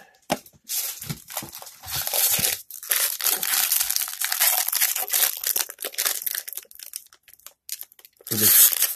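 Someone sifts through a stack of 2019 Bowman Draft trading cards from a super jumbo box, making dense, crisp rustling and flicking of card stock close by, nearly continuous with short pauses.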